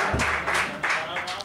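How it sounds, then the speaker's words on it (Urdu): Audience applause at an Urdu poetry recital welcoming the poet Colonel Tahir Waheed, a dense, steady wash of clapping in repeated swells lasting the whole short moment. "آپ سب کی بھرپور تالیوں میں"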